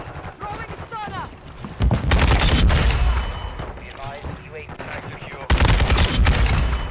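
Rapid bursts of automatic gunfire from a Call of Duty League match, loud and dense, with brief gaps between volleys and a player's excited voice talking over the shots.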